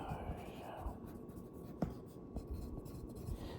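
Pen scratching notes by hand onto paper, soft continuous scribbling with a few small taps, close and quiet, no talking.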